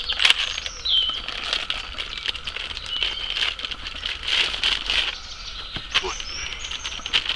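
A thin plastic bag crinkles and rips in close, irregular bursts of crackly rustling, with faint birdsong outdoors.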